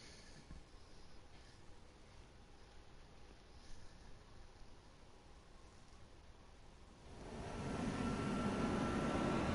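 Jet aircraft engines in the video game Ace Combat 7 hold a steady airy roar, swelling louder and fuller over the last couple of seconds.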